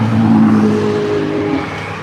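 A car fitted with a burble tube exhaust revs loudly and close by during a street cruise, a strong throaty engine note that swells and then eases off over about two seconds.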